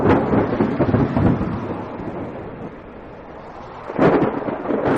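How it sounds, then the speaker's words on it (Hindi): Steady rain pours down with low rumbling swells, a heavier surge of noise at the start and again near the end, no voices. "उनके लिए यह पहली बारिश थी जो उन्हें किसी अजूबे से कम नहीं लग रही थी।"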